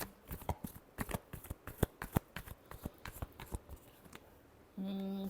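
A tarot deck is shuffled by hand in a close, quiet setting, a run of crisp riffling card flicks and taps lasting several seconds before a steady hum takes over at the end.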